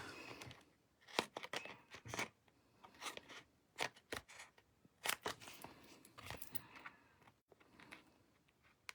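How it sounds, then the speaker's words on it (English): Paper snips cut through cardstock scraps while making sunburst cards, a steady series of crisp snips and papery rustles close up, with brief pauses between cuts and no talking. "that's why I prefer to use the paper snips for this step."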